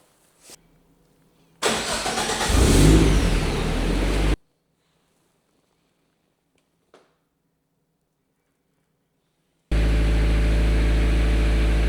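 A Nissan S13 on a dyno fires up with a short engine roar that cuts off abruptly, then a faint tick in silence, before a loud steady engine drone returns near the end.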